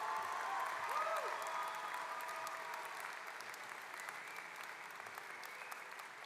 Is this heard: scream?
no